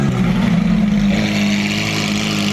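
Liberty Walk-modified Nissan GT-R with an aftermarket exhaust revving, a loud, steady low engine drone holding for a couple of seconds with a slight pitch rise midway, heard close and without talk.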